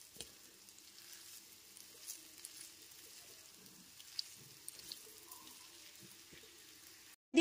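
Boiled chowmein noodles are stir-fried with vegetables in a pan, giving a soft, steady sizzle with light scraping and stirring clicks at moderate distance and no talking.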